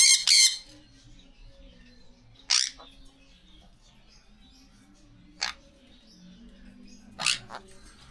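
Several short, shrill squawks from a pet lovebird or albino parakeet at a breeding aviary, coming in separate bursts over a quiet background with faint low murmuring.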